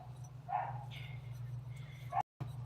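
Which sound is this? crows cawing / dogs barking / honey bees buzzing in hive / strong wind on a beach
dogs barking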